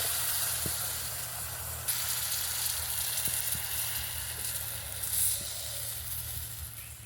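Oil in a wok gives off a faint, even sizzle and hiss while a besan snack fries, quiet and steady throughout with no voices.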